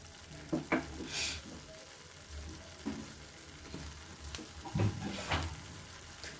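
Bengali-style mourola fish and potato chochhori stirred in a frying pan, soft sizzling under a few distinct scraping stirs that come in bursts, fairly quiet and close, with no talking.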